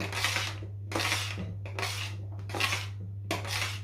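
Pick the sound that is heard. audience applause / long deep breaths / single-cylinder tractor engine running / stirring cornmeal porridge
stirring cornmeal porridge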